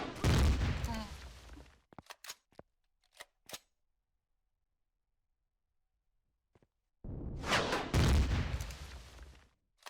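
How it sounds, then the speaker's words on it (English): Weapon firing in Empyrion Galactic Survival, with dense loud bursts of shots at the start and the end and a few scattered single reports in a long quiet stretch between them. "I'm just firing at random"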